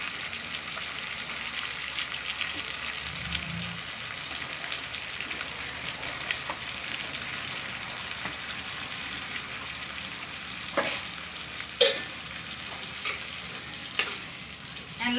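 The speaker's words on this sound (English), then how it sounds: "And let the masala fry." Masala spices fry in a pan for chicken vindaloo, a steady close sizzle like light rain, with occasional louder clicks and scrapes of stirring toward the end.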